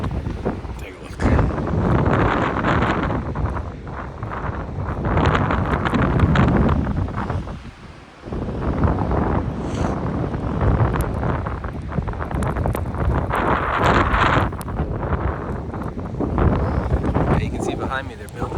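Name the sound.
strong wind on the Texas Gulf coast during blizzard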